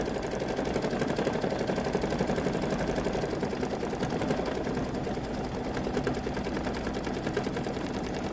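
Sewing machine quilting a stained glass quilt, running as a steady, fast mechanical whir with rapid stitching pulses throughout, close and continuous with no talk.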